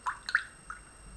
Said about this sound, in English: now I'm just going to wet my brush